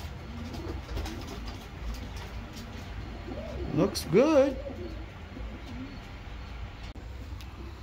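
Racing pigeons coo inside a loft, a soft rolling, throaty call swelling midway, close up, while someone talks briefly over low background noise.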